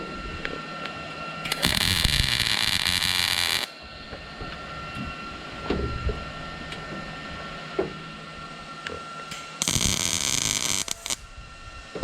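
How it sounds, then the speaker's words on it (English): A wire-feed welder loaded with small wire tacks up a trailer hitch receiver. Two separate bursts of harsh, crackling buzz, one around two seconds long and one slightly shorter, are broken by quieter shop noise between them. "I'm just going to tack this thing up real quick."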